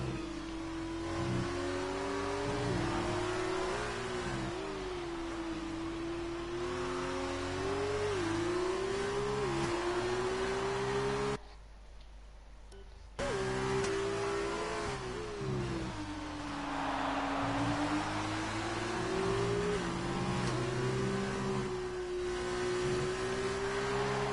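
Formula 2 race cars in a simulated racing game at Abu Dhabi, a continuous engine whine rising and falling through gear changes, briefly cut to near silence midway before resuming.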